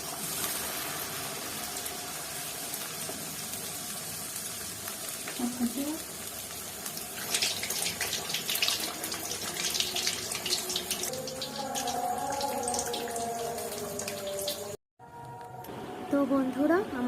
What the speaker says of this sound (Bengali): মাছটা বেসনের মধ্যে ডোবালাম, ডুবিয়ে টান করে আমি একটা একটা করে তেলে ছেড়ে দেবো